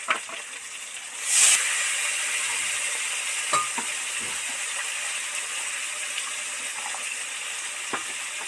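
A little water poured onto ground turmeric, chilli, cumin and coriander spices in a hot pan for a prawn curry, giving a sudden hissing burst followed by a steady sizzle with faint scattered stirring clicks.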